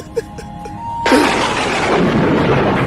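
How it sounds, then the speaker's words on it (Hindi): A sudden loud crack of thunder breaks in and rolls on as a broad rumble, following a few faint taps. "अबे भाई अचानक इतनी बिजली क्यों कड़क रही है?"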